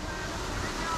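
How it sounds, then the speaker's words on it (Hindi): A waterfall rushes in a steady, dense hiss of falling water, constant and moderately loud throughout the brief moment. "वहाँ पे आपको आवाज सुनाई दे रही होगी झरने की।"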